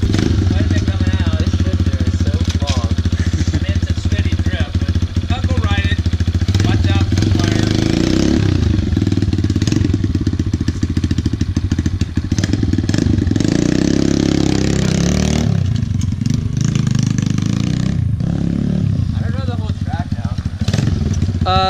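Kawasaki KLX 110 dirt bike engine running steadily and loud up close after a carburetor cleaning and oil change, a constant idle with slight revving throughout while a person talks over it.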